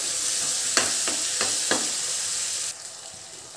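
Carrot and capsicum fry in a pan for a spiced pasta masala, a constant close sizzle broken by four sharp stirring scrapes, with the hiss dropping abruptly near the end.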